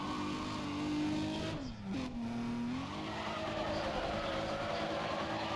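A car drifts in the Need for Speed ProStreet racing game, its engine droning steadily while tires squeal through a sliding turn, the pitch dipping and recovering as the slide ends.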